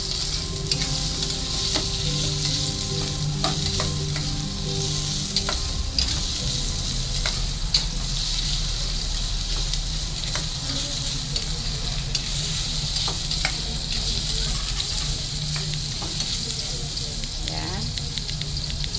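Ginger sautéing in a pan for a papaitan of beef skin, a continuous close sizzle with irregular scraping stirs and light utensil taps throughout, steady and fairly loud, with no voices.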